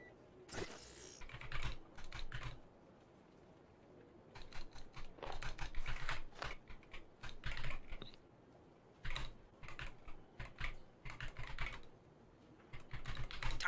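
Computer keyboard typing comes in bursts of quick, soft clicking separated by pauses. The keys sound close and fairly quiet.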